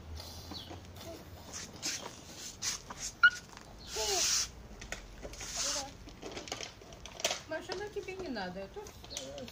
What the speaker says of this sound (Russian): тут собачка, она ау-ау-ау делает